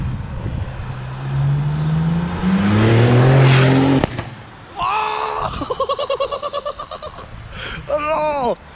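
A Shiftech-tuned BMW roars past close by, its engine note climbing in pitch as it accelerates. After a sharp crack it gives a run of quick, stuttering revs and bursts, and voices shout over the noise.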